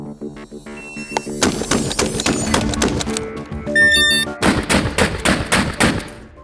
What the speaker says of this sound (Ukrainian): Шість пострілів в максимальному темпі.